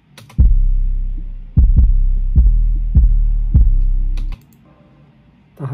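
Deep, booming low-end thumps of a beat play alone, a few heavy sustained bass hits in a slow rhythm, with the highs stripped away.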